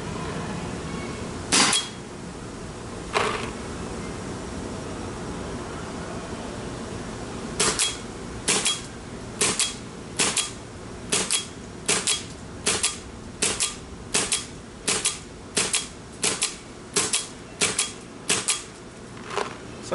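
An Empire Resurrection paintball marker fires paintballs in sharp, snapping shots, two isolated ones first and then a steady, evenly spaced string of about a dozen, over a constant background hiss.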